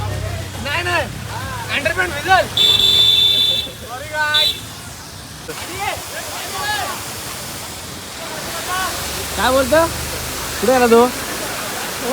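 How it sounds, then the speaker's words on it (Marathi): A small waterfall at Tamhini Ghat keeps up a constant broad rush beneath frequent nearby conversation, with a brief electronic tone partway through. "एक छोटासा धबधबा आहे"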